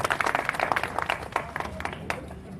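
Audience applause at a party-joining ceremony in Gangakhed, a dense patter of many hands clapping at moderate volume that eases off slightly toward the end, with no talk over it.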